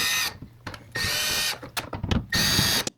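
A power screwdriver removes T20 screws from a Volkswagen Jetta, whirring in three close bursts separated by short clicks and handling noises.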